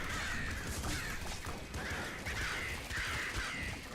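Crows cawing in the video game Nuclear Throne, repeated harsh caws rising over a loud, steady wash of game noise and music, coming in rhythmic bursts throughout with no talking.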